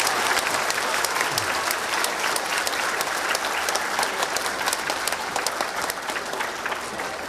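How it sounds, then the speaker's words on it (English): A school auditorium crowd at a middle school Veterans Day celebration gives loud, sustained applause for students and staff after a performance of the Navy hymn, a thick, continuous roar of many hands clapping that stays strong throughout. "I want to give them a huge round of applause."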